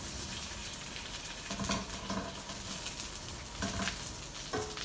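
Corn kernels fry in butter in a pan while being stirred, a continuous close sizzle with occasional scraping, rustling stirs breaking through the steady hiss.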